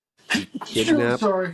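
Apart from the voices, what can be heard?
sneeze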